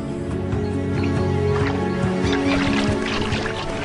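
Birds in the Amazon forest after the floods recede: a dense, continuous chorus of honking, squawking calls, loud and close, filling the whole stretch with no voices.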